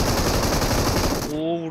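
Rapid automatic gunfire in a video game, a dense loud burst of machine-gun shots lasting over a second and then cutting off abruptly, leaving a brief tonal ring.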